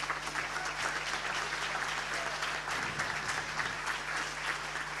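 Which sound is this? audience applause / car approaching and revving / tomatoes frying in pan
audience applause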